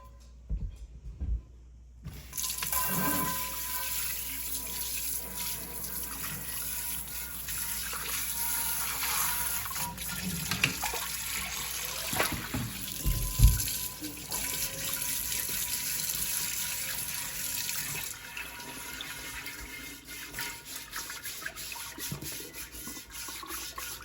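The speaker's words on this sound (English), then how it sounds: "So I'm gonna be using hot water, and let's get this thing clean" Hot tap water runs steadily into a sink as a cast iron pan with leftover egg is washed, a continuous close splashing gush with brief clanks and scrubbing shifts throughout.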